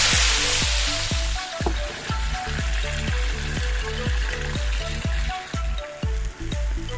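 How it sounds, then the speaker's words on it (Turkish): Mushrooms poured into hot oil on a sac griddle set off loud, steady frying hiss, with a regular series of soft clicks or ticks running underneath. "Sacda kızdırdığımız yağımızın üzerine mantarlarımızı döküyoruz."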